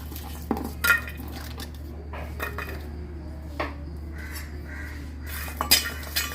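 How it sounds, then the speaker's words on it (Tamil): Unpeeled garlic cloves dry-roasting in a pan with no oil, sparse clinks and rattles of cloves and utensil against the metal over a low, steady background hum. "இப்போ வந்து பூண்டு வந்து தோல் உரிக்காமல் அப்படியே நம்ம ஃப்ரை பண்ணிக்கணும்"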